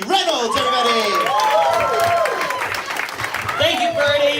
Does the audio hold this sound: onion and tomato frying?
no